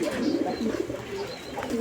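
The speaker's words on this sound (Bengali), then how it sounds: "বোম্বাই এই যে ডাক দিতেছে আপনারা দেখতে পাচ্ছেন" Bombay pigeons coo in a steady, low murmuring run, close and fairly loud, with faint chirps higher up and no talking.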